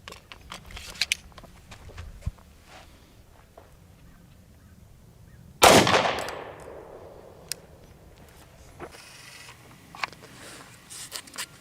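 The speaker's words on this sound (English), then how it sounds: "we're going to shoot 125 grain gold dot hollow points." A single loud 357 SIG gunshot firing a 125 grain Gold Dot hollow point at a Kevlar helmet, a sharp blast that rings out and fades, set among quiet handling clicks and shuffling.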